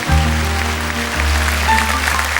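Studio audience applauding children on a 1983 French television fan show, a sustained dense clapping wash over a low steady hum, with no voices standing out.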